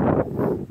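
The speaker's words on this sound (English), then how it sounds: "It's a little windy." Wind buffets an outdoor microphone at a disc golf ice bowl tournament, a steady low rumbling roar that swells and dips briefly, with no one talking over it.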